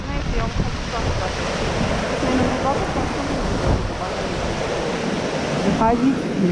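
Icy waves wash and break against a rocky Gulf of Finland shore while wind buffets the microphone, forming a loud, continuous roar with splashy surges.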